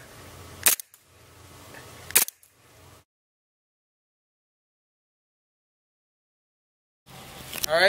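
A SOCOM Gear M9 airsoft pistol loaded with 20 gram BBs fires two sharp, close snapping shots about a second and a half apart, then falls silent before a brief burst of handling noise at the end.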